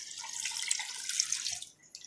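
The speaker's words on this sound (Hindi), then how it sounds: "ये देखिए हम इसके अंदर पानी डाल रहे हैं।" Water poured from a tap or jug into a spiced chicken shami kabab mixture with salt, cumin, fennel and chili, a steady splashing stream for nearly two seconds that thins out at the end.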